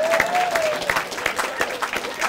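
Wedding guests clapping during a ceremony, a modest burst of scattered hand claps from a small gathering, with a faint tonal whistle or squeak early and murmuring voices underneath.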